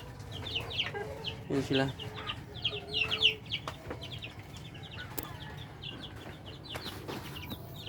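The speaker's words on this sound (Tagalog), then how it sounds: "yung mga sisiu pala idol na bagong pisa, dito ko nilagay" Newly hatched chicks kept in a small enclosure give repeated high, thin peeps in scattered bursts, with clucking fowl and someone talking nearby.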